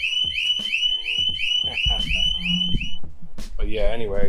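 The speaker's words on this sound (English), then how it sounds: "Oh, I didn't know I had an alarm." A Harley motorcycle's security alarm sounds, rapid repeating electronic chirps and warbling tones, loud and close, with someone talking over it.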